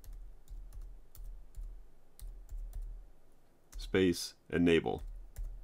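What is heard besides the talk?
typing a Terminal command on a MacBook Pro keyboard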